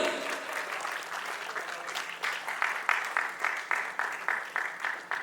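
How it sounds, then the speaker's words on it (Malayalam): An audience at a film audio launch event claps in sustained applause, a dense crowd sound with rhythmic surges building toward the end, heard alone without speech. "ഒരു നല്ല കൈയടി കൊടുത്തുകൊണ്ട്"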